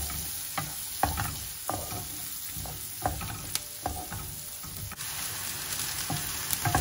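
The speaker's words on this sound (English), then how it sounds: "I'm going to cook this for around 8 to 10 minutes on medium to low heat." Finely chopped onions fry in a pan over medium-low heat, a steady close sizzle punctuated by regular clicks and scrapes of stirring.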